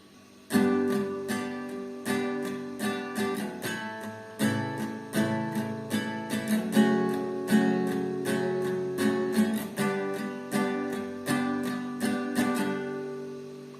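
Acoustic guitar strummed chord by chord, each strum ringing out in a steady, even rhythm with no voice over it.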